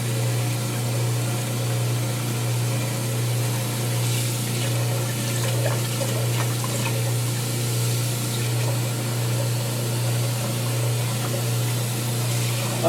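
Water pours steadily and loudly from a tap to refill a pot in a sink where spent slime is being washed away, a constant rushing stream with a low hum beneath it.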